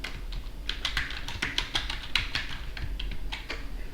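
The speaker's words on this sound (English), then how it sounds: "I'll just type that one as well." Rapid, uneven typing on a computer keyboard, a close run of crisp clicks and taps with brief pauses between bursts, alone against a quiet room hum while entering words during a software setup.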